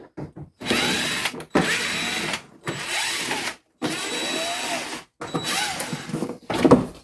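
Power tool backing T25 screws out of the inner fender liner on an Audi A4 B7: several short, loud whirring bursts with brief pauses between them, close by, with no talk.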